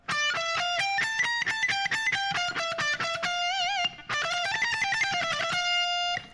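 Distorted electric guitar runs through a fast solo phrase, rapid picked notes stepping back and forth on the second string, with bent and vibrato-held notes and a brief gap, loud and clean with no talk.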